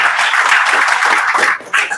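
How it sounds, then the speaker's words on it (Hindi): A group of students claps in a classroom, a brief burst of dense, loud applause that stops abruptly and then resumes for a moment. "ताली बजा दो भाई"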